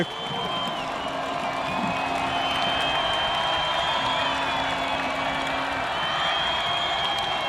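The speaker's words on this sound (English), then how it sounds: "You can hear the Skyridge crowd" A home crowd at a Skyridge high school football game against Timpview cheers and roars steadily from the stands, a continuous wash of voices and whoops heard from a distance with a broadcast commentator talking over it.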